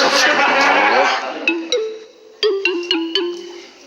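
A mobile phone rings loudly nearby in a repeating electronic melody of short bright tones, overlapped at first by people talking and laughing.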